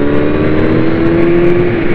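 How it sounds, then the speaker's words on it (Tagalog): A Kawasaki Z900 motorcycle's exhaust accelerating in fourth gear, a steady loud engine drone with a sustained rising tone held close throughout, no talking. "Tapos yung tunog ng exhaust niya, hindi masakit sa tenga"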